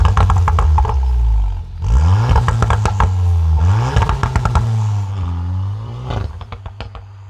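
Tuned VW Golf 7 TCR with an IS38 turbo and Stage 1 map, revved hard while parked: loud, close engine rising and falling through several blips, ending with sharp exhaust crackles and pops on overrun.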